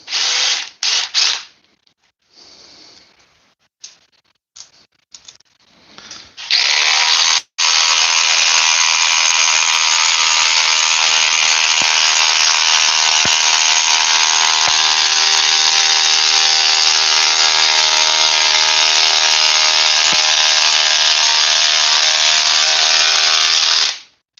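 A Milwaukee Gen 2 Surge impact driver drives fasteners, first in several short choppy bursts, then in one long, loud, sustained whine that runs steadily for over fifteen seconds before cutting off.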